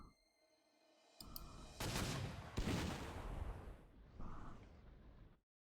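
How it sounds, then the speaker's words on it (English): Light airstrike by a fighter plane in the Panzer Corps 2 strategy game: a short low rumble, then two heavy broadband explosive blasts and a fainter trailing burst, fading out before the end. "Looks like we have one fighter left that hasn't attacked anything yet, so you come over here, do a light airstrike"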